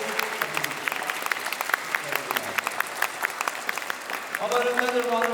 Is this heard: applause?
yes